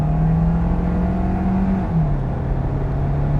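A Kia Sorento hybrid SUV accelerates in sport mode, its engine holding a loud, steady drone that shifts pitch downward partway through, heard close from inside the vehicle.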